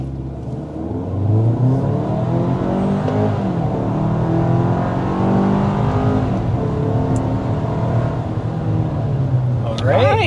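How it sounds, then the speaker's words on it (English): 2026 Hyundai Santa Cruz pickup under hard acceleration past 60 mph, its engine rising in pitch through rapid gear changes, loud and close from inside the cab. "But first, we need to start with a hard acceleration."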